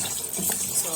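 Water running and splashing as vegetables are rinsed thoroughly to remove sand while preparing afang soup, a steady close gush with brief louder swirls over one second.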